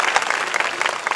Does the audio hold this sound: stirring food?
no